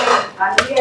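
Hard chocolate being crushed into small crumbs, giving a short series of crisp cracking and crunching sounds close up, with a sharp snap near the end.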